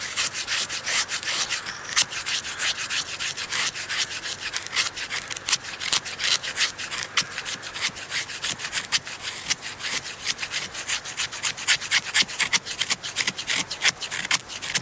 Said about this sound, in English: when you do stuff like this, you know, it's really hard to get it to feather stick